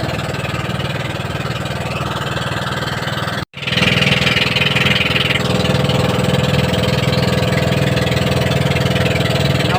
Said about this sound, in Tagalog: Bangka ni Otol.